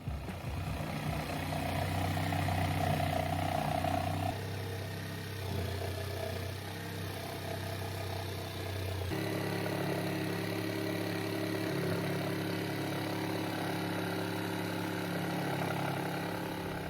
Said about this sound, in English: now I'm going to use the jigsaw again to cut out the other section and remove that as well